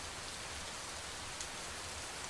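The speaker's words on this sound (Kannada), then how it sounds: "ಸೊ ಮಳೆ ಅವಾಂತರವನ್ನ ಸೃಷ್ಟಿ ಮಾಡ್ತಾ ಇದೆ" Heavy monsoon rain pours down in coastal Karnataka with water flooding the roads, a constant broadband hiss without speech.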